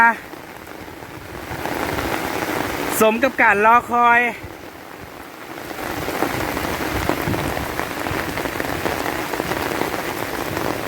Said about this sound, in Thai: พี่น้องฝนตกลงมา